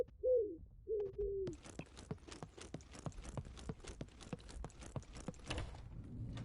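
Homing pigeons cooing in a locked cage in a video game: a few soft warbling coos open, then a steady run of sharp clicking taps like scratching or pecking, close and fairly loud, with no talk.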